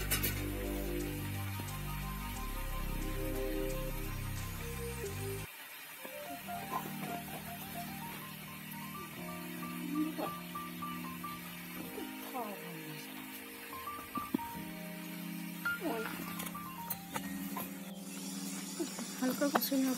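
Vegetables seasoned with salt and turmeric sauté in a pan, giving a steady sizzling hiss under a continuous layer of tonal, music-like sound.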